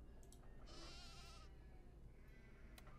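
A single faint video game sheep bleat from Nancy Drew: The Haunting of Castle Malloy rises briefly over a low, noisy background hum.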